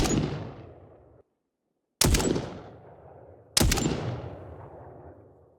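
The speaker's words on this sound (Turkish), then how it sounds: "AWB-98 keskin nişancı tüfeği seviye 10 ses efekti." Three sharp, loud sniper rifle shots from an AWB-98 in the mobile shooter game Glory Frontline, each a crisp crack followed by a long decaying boom, spaced over a few seconds with silence between.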